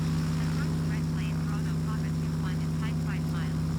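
Radial piston engines of a Sikorsky VS-44 flying boat in Microsoft Flight Simulator drone with a steady, loud low hum and a constant throbbing tone, while someone talks over it throughout.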